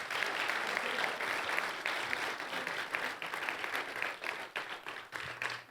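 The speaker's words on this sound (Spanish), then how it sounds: "Dale un aplauso a Jesús" An audience applauds, a steady wash of many hands clapping at moderate distance, fairly soft overall and tapering slightly toward the end.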